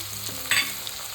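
A small medium-sized tomato sautés with ginger and garlic in a pan, giving a brief close sizzle with a spatula scrape midway, no talking.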